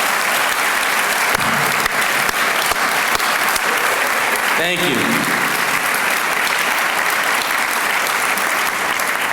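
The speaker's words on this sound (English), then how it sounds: "will our brothers from Greece please stand so that I may applaud you" Banquet audience applauding guests from Greece at a grand banquet in Chicago, a loud, sustained roar of many hands clapping that fills the room, with a brief spoken thanks cutting through midway.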